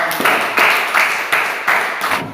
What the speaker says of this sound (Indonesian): Saya minta sekali lagi tepuk tangan untuk kita semua